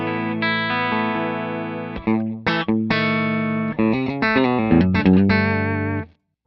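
Electric guitar played through an LPD Head-On Boost pedal with no reverb, ringing out sustained chords and then quicker picked notes, loud and close, ending in sudden silence.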